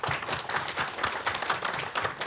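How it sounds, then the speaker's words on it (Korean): Hall audience at an energy policy forum applauds steadily, a dense patter of many hands clapping at moderate volume without pause, with no one speaking over it. "다시 한번 큰 박수로 맞아주시기 바랍니다."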